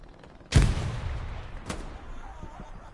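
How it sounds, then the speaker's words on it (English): A grenade blast in the Hell Let Loose video game booms loudly and close with a deep rumbling tail, followed about a second later by a sharp gunshot and fainter distant shots. "He's cooking a nade."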